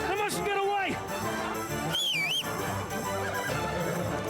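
Horse neighing in the video game Kingdom Come Deliverance 2, a couple of short whinnies amid music and game ambience, with voices speaking over it.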